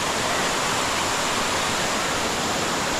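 A waterfall pouring into a secluded lagoon in Australia, a loud, continuous, even roar of falling water close at hand with no other sounds over it.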